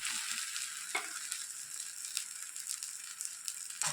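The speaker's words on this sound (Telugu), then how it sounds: "నూనె వేసుకొని దోశ బాగా కాలిన తర్వాత అలా తిప్పి వేయండి" A spicy dosa cooks in oil on a pan, giving a soft, steady close sizzle with a few light scrapes; no one talks.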